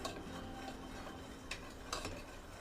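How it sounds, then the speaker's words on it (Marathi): Cooked, well-mashed dal being whisked in a pot, giving faint steady scraping and stirring with a couple of sharper metallic taps, set against a constant background hiss. "याला थोडीशी आपण अशी घोटून घेऊ डाळीला"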